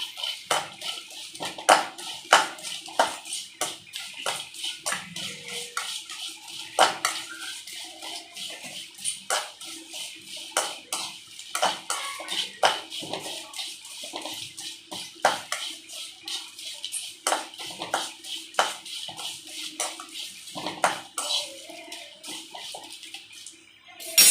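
Whole spices including cinnamon bark are dry-roasted in a pan over low heat for podi kuzhambu powder, with continual light scraping and rattling clicks as they are stirred nonstop, fairly quiet and close.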